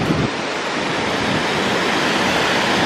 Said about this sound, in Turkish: Ama şu an yanına yaklaşmak imkansız çünkü çok aşırı bir şekilde su akıyor.